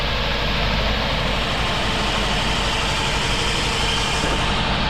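A Toyota Altis engine idles on a cold start with heavy vibration, a steady loud dense rumble that shakes the hoses and holds unchanged throughout with no talk.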